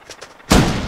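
A rifle fires in the survival video game The Long Dark, with a single heavy boom that rolls into a long, rumbling outdoor decay after some quieter ambient sound.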